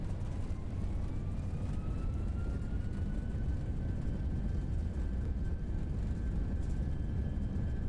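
Reverse thrust from an FSLabs A321 on landing in the Prepar3D flight simulator, a steady loud engine roar with a rising whine that holds level throughout.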